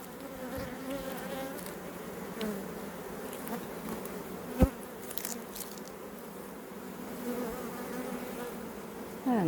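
Honeybees buzzing around an open hive frame of brood, a steady close droning hum throughout, with a brief click partway through.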